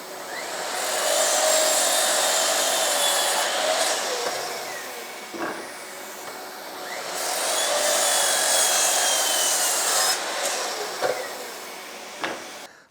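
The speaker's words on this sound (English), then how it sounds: "let's chop these on the miter saw first" A miter saw whines loudly through two long cuts in wood, spinning up and winding down each time, with faint knocks between them.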